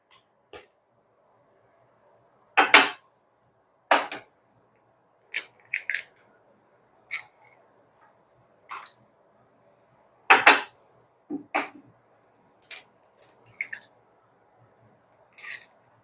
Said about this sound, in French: je casse mes 3 œufs un à un.